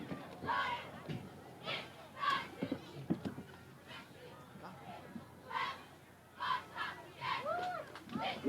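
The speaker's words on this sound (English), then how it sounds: "Cheerleaders are doing an excellent job keeping the crowd in it." Crowd noise at a Thanksgiving Day high school football game between Cherry Hill West and East, with cheerleaders keeping fans going; rising swells of cheering and shouts recur through the stretch, mixed with voices and chants at moderate distance.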